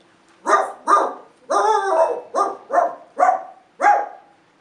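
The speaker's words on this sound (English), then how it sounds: "He hears Coco barking." A dog barks eight times in a quick, uneven series, sharp and fairly close, with brief silences between barks.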